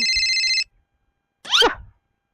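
A mobile phone rings loudly and close with a bright electronic ringtone for about half a second, cuts off, and is followed by a brief burst of chirpy sound.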